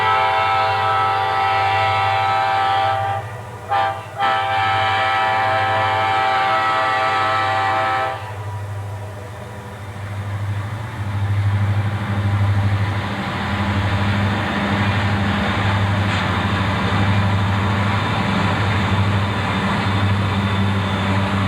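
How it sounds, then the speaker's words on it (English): A northbound coal hopper train rolls past trackside in Gate City, Virginia in dreary weather, a steady loud rumble of wheels and cars with a horn blast near the start, the roar continuing unbroken as the hoppers go by. "he intercepted this northbound hopper train in rather dreary weather"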